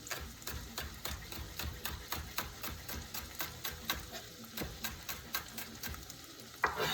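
Chopped green onions crackle and sizzle quietly in hot oil in a pan, with a steady run of regular ticking pops and a few scrapes of a spoon, and no talking.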